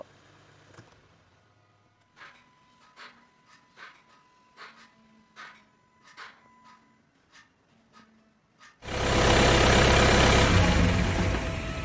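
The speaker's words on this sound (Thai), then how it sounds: "เดี๋ยวเพื่อนมาฟังเสียงคลอกแคลกกันนะครับ" A Tank 300 diesel engine gives a series of rhythmic clunks and clacks about a second apart, faint and fairly close, before a loud burst of engine roar abruptly takes over.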